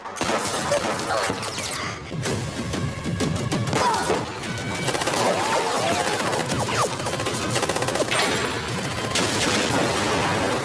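Sharp bursts of gunfire crack amid a loud, chaotic din of crashes and impacts.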